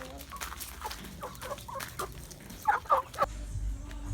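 Ducks fed a mix of rice and bran softened with water, quacking and calling in short bursts close by, with a few louder calls near the end over low background noise.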